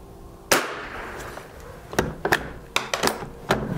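An old Stevens No 66 bolt-action .22 rifle fired outdoors: one sharp crack, then a scatter of quieter clicks and clatters from the bolt and handling, with a few more snaps near the end.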